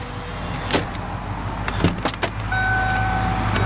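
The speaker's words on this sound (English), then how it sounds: "Full power windows." Power windows on a 1994 Ford F-150 XLT whirring as the motors run, heard close inside the cab among a few sharp clicks and knocks, with a steady electric hum carrying through the last second.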